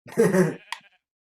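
A sheep in the Minecraft video game bleats once, a short nasal wavering call close and clear, followed by a faint brief click and then silence.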